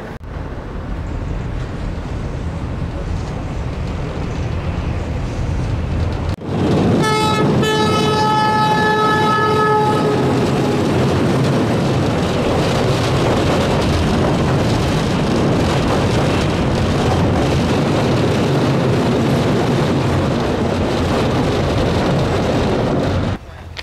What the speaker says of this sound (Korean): 기차 지나가는 거 영상 한번 찍어 보도록 하겠습니다